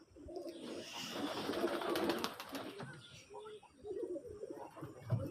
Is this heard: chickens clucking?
no